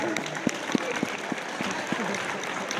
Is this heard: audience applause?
yes